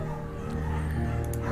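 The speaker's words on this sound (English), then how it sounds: "There's also an intimidating but gentle-eyed German Shepherd." A German Shepherd barking and whimpering in the video game Firewatch, a few short yips over a steady low music bed and ambient hum, moderately close.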